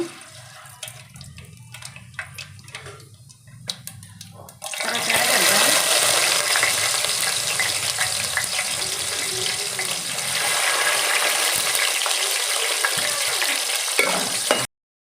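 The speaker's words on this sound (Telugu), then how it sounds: "నూనె అయితే వేసాను అర స్పూన్ ఆవాలు" Half a spoon of mustard seeds in about 100 grams of hot oil for a snakehead (korameenu) fish curry bursts into a loud, dense sizzle that holds steady for around ten seconds, close and continuous, after some quieter kitchen sounds.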